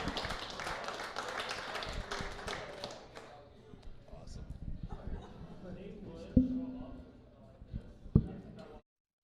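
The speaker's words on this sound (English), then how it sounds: "big round of applause for both Dean Blandino and Dan Miller" An audience at a Detroit Lions training camp party applauds Dean Blandino and Dan Miller. Scattered claps run for a few seconds, then thin out into murmuring and a few isolated taps, all fairly faint.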